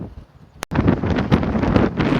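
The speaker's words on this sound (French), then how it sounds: "il y a toujours autant de vent" Strong wind blows across a foggy pine-forest trail on the GR65 Camino route in France, a loud continuous gusting roar buffeting the microphone right up close after a brief quieter moment and a sharp click.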